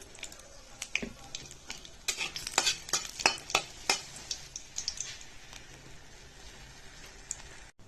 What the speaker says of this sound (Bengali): তেল দিয়ে দিচ্ছি দুটো শুকনো লঙ্কা আর কালি জিরা